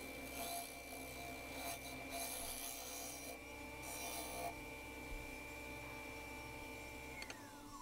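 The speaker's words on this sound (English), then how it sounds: "I switch from a push cut to a scraping action here, just to help refine that curve." A bowl gouge scrapes a spinning bubinga wood bowl on a lathe, giving a continuous rasping, rubbing sound over the steady hum of the machine, heard close up with occasional scratchy bursts.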